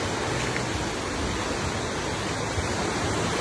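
Rushing floodwater at Hinaguan Nature Park, where a flood swept away a bridge, roars as a loud, dense, unbroken wash of turbulent water close by, with no voices.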